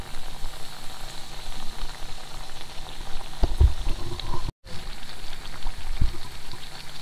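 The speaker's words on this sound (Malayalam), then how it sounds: "ഇപ്പം നമ്മുടെ പരിപ്പിവട മൂത്ത് വന്നിട്ടുണ്ട്" Dal vada, lentil fritters, deep-fry in hot oil with a steady bubbling hiss, a few louder clunks and a brief dropout partway through.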